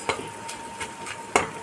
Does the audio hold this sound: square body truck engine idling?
no